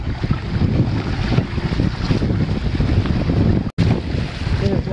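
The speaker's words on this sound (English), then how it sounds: "Got a westerly blowing." Westerly wind of around 15 knots buffeting a Hobie sailboat at Lakes Entrance, a steady loud rush of wind and water noise with a brief dropout near the end, no talk.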